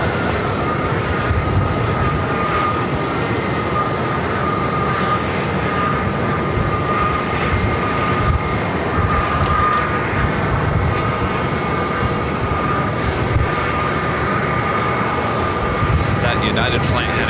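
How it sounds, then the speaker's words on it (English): United Airlines Boeing 737-900ER airliner at Phoenix Sky Harbor airport, a steady broadband jet engine roar holding throughout, with talk over it and faint radio chatter. "United flight heading to Chicago O'Hare. Not quite sure if it will stay here on the north side or head to the south side. It's a 737-900 ER."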